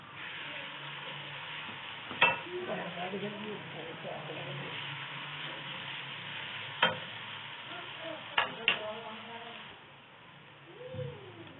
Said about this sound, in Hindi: अब इसमें मैं डाल रही हूँ 3 चम्मच अदरक और लहसुन